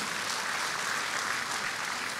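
A church congregation breaks into loud, sustained applause, a dense, even wash of clapping that holds steady without any voices on top.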